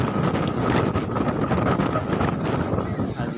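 Strong wind on foggy Nandi Hills near Bangalore during a group motorcycle ride, roaring and buffeting loudly against the microphone throughout with an uneven, gusty rumble.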